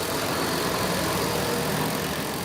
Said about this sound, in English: Truck is loud.